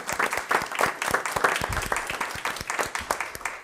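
Audience applause fills a school board meeting, a steady burst of many hands clapping together at moderate volume throughout, with no speech over it.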